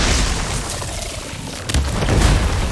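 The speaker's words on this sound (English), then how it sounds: "it looks like Zoe's giving us some supporting fire" Supporting-fire explosions in the Horizon Forbidden West video game, deep rumbling booms rolling on continuously with a sharper burst near the end, loud and heavy.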